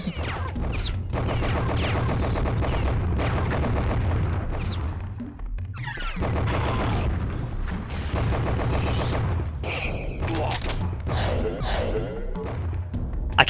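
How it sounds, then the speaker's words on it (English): Missiles launch and explode in a video game, with dense booming blasts and crashing impacts rolling almost continuously, loud and close. "I can't believe those missiles whiffed."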